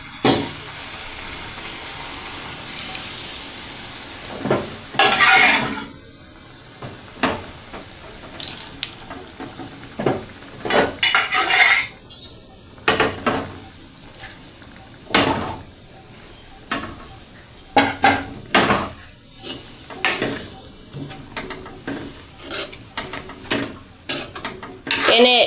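Boiled moong dal tipped into hot tempering in a pan over a high gas flame and stirred: a steady sizzle broken by repeated sharp clatters of the spoon against the pan, close and fairly loud.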